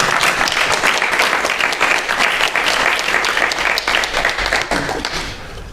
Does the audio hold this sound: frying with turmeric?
no